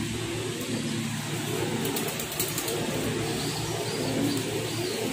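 Pigeons in a loft give soft, low cooing and scattered calls over a constant background hum, with the flock heard at moderate distance and no one speaking.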